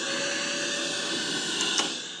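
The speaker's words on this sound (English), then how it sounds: "then you can vacuum your car with your vacuum" Vacuum cleaner running off a Bluetti Apex 300 power station, used to clean a car: a steady, loud motor whine and airflow roar that holds continuously throughout, with a brief bump in intensity near the end.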